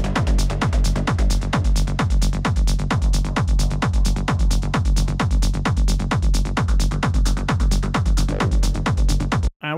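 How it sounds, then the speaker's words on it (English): A driving peak-time techno track with a pounding four-on-the-floor kick and dense layered synths, loud and steady throughout before cutting off at the end. "we're gonna use this Peak Time Techno track that I've basically creating during my live"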